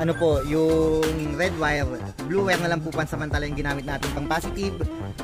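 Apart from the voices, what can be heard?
None of the usual background noises is heard.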